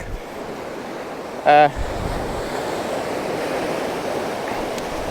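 Ocean surf rolling continuously onto the seashore, a steady broadband wash of waves close by, with a single brief spoken word near the start.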